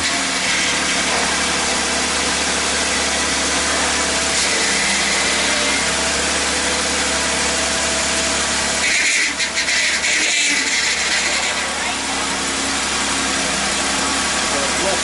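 A Jeep Wrangler JK engine idles steadily and close by for the whole stretch, a continuous low drone with faint mechanical clatter, while people talk over it now and then.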